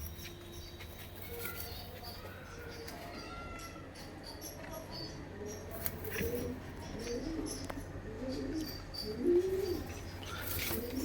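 Pigeons, including a deep-eyed Madrasi bird, coo softly in low murmuring bursts amid faint chirps and background rustle, fairly quiet and close, with a brief louder call near the end.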